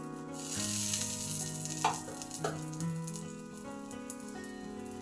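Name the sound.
Maggi pan pizza sizzling in a covered pan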